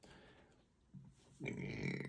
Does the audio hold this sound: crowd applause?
no